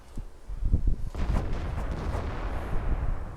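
Tank main gun firing in the World of Tanks video game, a heavy booming blast with a rumbling low roll and scattered thuds, loud and close with no talk over it.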